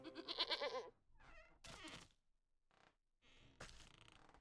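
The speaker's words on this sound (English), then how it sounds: "Cute goat." A cartoonish goat in the video game Wytchwood bleats in several short, close calls separated by pauses, loud and clear with no talk over it.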